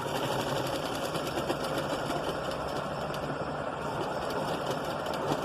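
A sewing machine runs steadily and close as it stitches fabric for a six-year-old child's blouse, giving a fast, even mechanical whir with no pauses and no talk over it.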